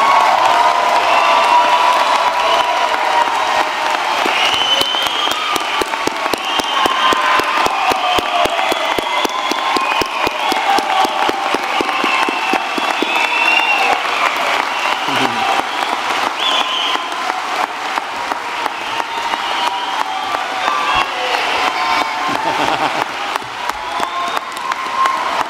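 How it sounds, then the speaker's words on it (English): A standing crowd at a university commencement applauds the graduates with loud, sustained clapping mixed with scattered cheers and whoops, holding steady throughout. "I invite everyone to stand and applaud them now"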